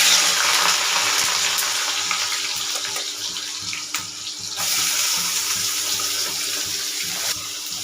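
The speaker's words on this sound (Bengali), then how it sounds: "এদিকে দেখো আমি আলু ভাজা বসাবো" Potatoes sizzle in hot oil in a home kitchen, a bright steady hiss and crackle of frying that carries on throughout, with a soft clatter partway through.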